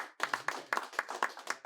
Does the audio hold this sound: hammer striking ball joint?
no